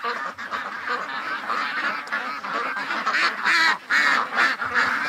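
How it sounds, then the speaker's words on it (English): Muscovy ducks crowd close, quacking and honking loudly in a dense, overlapping chorus that never lets up. "Hello, ducks."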